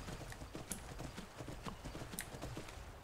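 Quiet, rapid hoof clops mixed with splashing, a horse in the video game Skyrim moving steadily through water with irregular thuds and sharp clicks.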